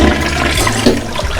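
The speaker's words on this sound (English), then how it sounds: "time for the flush test to make sure nothing comes out from underneath it" A toilet flushes during a flush test after its tank has been filled, a loud, close rushing surge of water that stays strong throughout and is heard alone.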